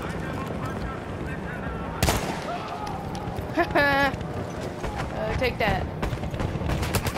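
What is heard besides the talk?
gunfire from a gun in the video game Battlefield 1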